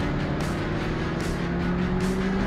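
A Porsche 928 in a racing simulator drives on track with a steady, droning engine note that holds a constant pitch, loud and continuous with no voices.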